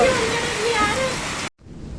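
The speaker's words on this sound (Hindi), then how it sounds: "एक ही सेकंड में इतनी ज्यादा तेज बारिश आ गई ना" Heavy rain pouring down on a farm field, a loud steady hiss of water that cuts off abruptly near the end, leaving quieter background noise.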